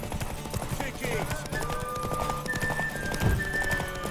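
Horse hooves clip-clop with a brief whinny in The Witcher 3 video game, steady hoofbeats under game music and ambient sound throughout.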